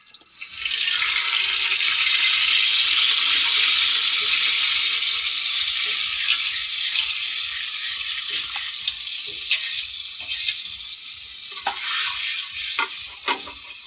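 Soy sauce hits a hot, sizzling pan: a loud, steady broadband hiss and crackle that holds throughout, with a few light clinks of stirring near the end and no voices.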